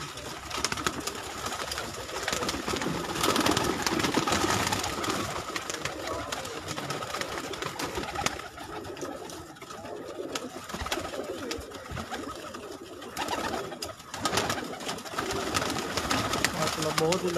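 Rooftop pigeons in Karachi coo softly and repeatedly in low, rolling calls against a busy outdoor background, with someone talking over them throughout.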